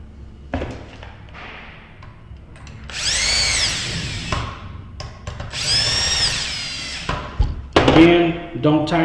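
A power drill drives deadbolt screws into a Better Home Products interconnect lockset in several loud whirring bursts, with soft thuds and handling knocks between them.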